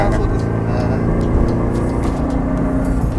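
A tuned Toyota 86 engine rumbles with a deep, throbbing, uneven burble like an old Subaru unequal-length exhaust, loud and steady from inside the moving car.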